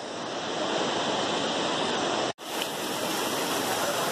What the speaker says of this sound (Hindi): आप देख भी रहे हैं यहाँ पे ऊपर से कैसे पानी गिर रहे हैं छोटे छोटे धार में